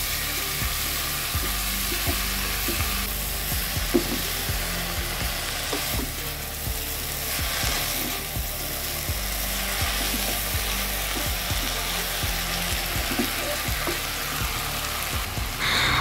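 Fern greens stir-fried in a hot pan for a spicy fern vegetable dish, a steady busy sizzle with scattered crackles and pops running throughout, loud and close with no talking.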